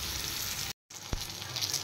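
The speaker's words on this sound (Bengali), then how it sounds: "হলুদ নুন দিয়ে দিয়েছি, এবার বেগুনগুলো ভেজে নেব।" Eggplant slices sizzle steadily in hot oil, seasoned with turmeric and salt, with a brief cut of silence partway and a single sharp crackle or spatter afterward; a close, continuous frying hiss with no talking.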